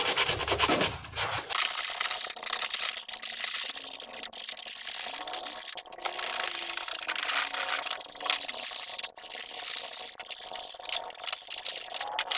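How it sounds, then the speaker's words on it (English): Steady dry rasping of sandpaper rubbed back and forth on a hard Shoretrooper/Deathtrooper armor chest piece, continuous and close, with no voices. "See how much is clogged up here with just that bit of sanding."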